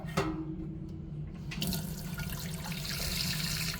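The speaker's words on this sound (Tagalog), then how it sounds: "Dito tayo kukuha ng tubig." Water runs from a tap into a sink, starting after a short lull with a sudden gush and then a steady, close, splashing stream that holds to the end, with no talk.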